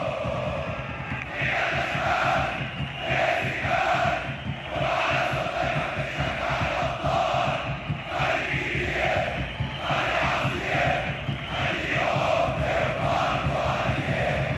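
Al Ahly supporters chant together in the north third stand at an Egyptian football match, a loud, dense crowd roar sustained throughout with rhythmic surges.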